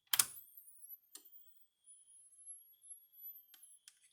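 A Gallagher E12 electric fence charger, run from a 13-volt bench power supply, gives off a faint, thin high-pitched whine that rises and holds, broken by a few sharp clicks in an otherwise quiet room.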